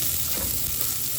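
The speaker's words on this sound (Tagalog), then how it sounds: "Maglagay ako ng luya sa ginisa." Ginger sizzles loudly as it drops into a Filipino ginisa sauté, a short burst of close, dense frying hiss with a faint stir, no talking.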